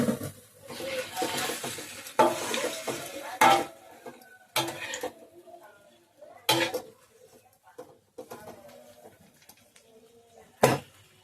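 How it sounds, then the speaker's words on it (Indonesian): Water spinach goes into a wok of boiling water, with sharp clatters of metal utensils against the pan and soft stirring and splashing between the knocks, irregular and close. "Dan ini udah mendidih untuk airnya, aku langsung aja masukkan kangkung ke dalam wajannya."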